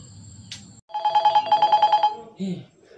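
A telephone rings with a rapid, evenly pulsed electronic trill lasting about a second, loud and close, preceded by a short noise burst and followed by a brief voice.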